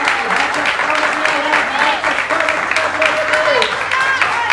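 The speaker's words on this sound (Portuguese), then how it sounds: "O Jesus merece um aplauso do Senhor." Worshippers in a church fill the room with sustained, loud clapping, while scattered voices cry out and sing over the steady patter of many hands.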